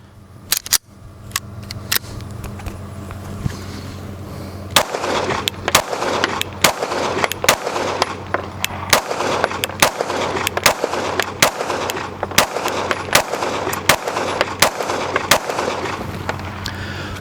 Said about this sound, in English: So let's go ahead and get some shooting done. All right, so a couple rounds to the 509